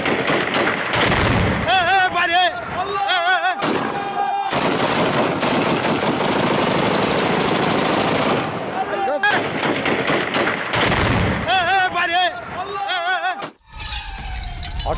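Gunfire during armed clashes between Druze and Bedouin fighters in Sweida, Syria: repeated bursts of loud, rapid shots come in clusters with brief gaps, mixed with shouting voices and dense background noise.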